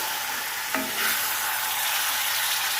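Chicken pieces with spice masala sautéing in a pan over high heat give a steady close sizzle, with a brief stirring scrape partway through.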